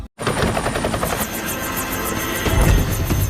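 A helicopter's rotor beats in a fast, steady chop with a loud engine roar, close and continuous for several seconds after a brief cut at the start, with no talking.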